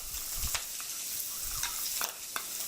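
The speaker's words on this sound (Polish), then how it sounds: "W momencie, kiedy boczek częściowo już nam się przysmaży, możemy dodać" Bacon sizzling and crackling in a frying pan while being stirred, a steady close hiss with several sharp pops and scraping stirs, no talking.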